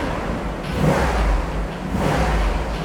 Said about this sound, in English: I'll give it a little rev for you